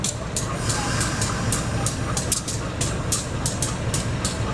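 A train rumbles steadily at Cibatu station as it departs, a continuous broad roar with regular clicking of wheels over rail joints, close and fairly loud with no pauses.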